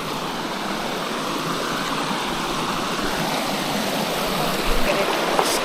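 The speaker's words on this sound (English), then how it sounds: "I might just start wading in it." Stream water rushes steadily at a Finger Lakes waterfall, a close continuous broadband roar with a few small splashes toward the end as someone wades in.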